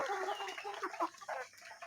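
Several native chickens cluck and chatter close by, overlapping short calls in an irregular, busy rhythm with no talking.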